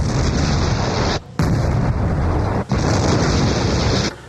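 Explosions in a lab setting: loud, sustained roaring blasts, broken by two brief sharp dropouts, with a heavy rumbling, wind-like wash throughout.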